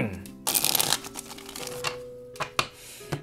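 A deck of tarot cards is shuffled in quick riffling bursts, close and crisp, with lighter flicks and taps following; a voice murmurs faintly underneath.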